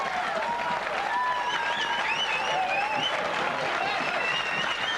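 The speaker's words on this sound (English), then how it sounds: "And a generous round of applause, and she's today's winner." A crowd applauds steadily for the winner of a 1999 women's Brunswick bowling tour tournament in Germany, continuous clapping that carries at an even level for the whole stretch.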